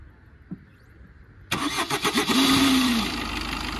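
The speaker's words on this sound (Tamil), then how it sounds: "இப்போ நான் இந்த வண்டியை திருப்பி ஆஃப் பண்ணி ஸ்டார்ட் பண்ணி காட்டுறேன் பாருங்கள்." A Suzuki Swift with a weak starter and starting trouble cranks in a few labored pulses, then catches and settles into a loud, close, steady idle after a brief rev.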